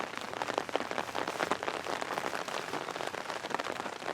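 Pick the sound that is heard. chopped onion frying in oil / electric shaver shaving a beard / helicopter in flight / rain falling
rain falling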